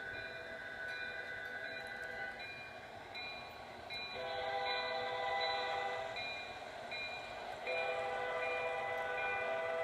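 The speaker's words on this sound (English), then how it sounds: "we got a mixed freight train" Mixed Canadian Pacific freight train with AC4400CW and SD40 locomotives passing in the Trainz 2006 simulation game; steady rumbling rail noise with sustained tonal horn-like layers, moderately loud and continuous, no talk.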